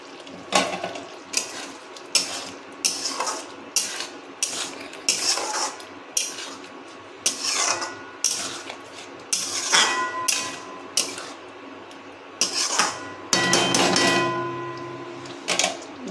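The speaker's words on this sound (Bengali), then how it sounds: "এবারে আমি এই পনিরগুলোকে ঢেলে দেব।" Paneer pieces tipped into a pan of thick, simmering gravy on a kitchen stove, heard as a run of clattering, scraping knocks of metal on metal with wet sloshing, fairly loud and close, with no talk.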